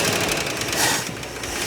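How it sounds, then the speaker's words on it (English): A Plymouth Barracuda engine, restarted after sitting 27 years with worn camshaft and lifters, runs rough in a continuous, dense, loud drone with an uneven knocking texture and no pauses. "We were able to get it running relatively quickly, but we immediately could tell the engine had some serious problems."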